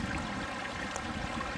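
Close by in a Hawaiian nature park, Ulu La'au Waimea, quick stream water pours and gurgles in one unbroken, steady rush, heard on its own.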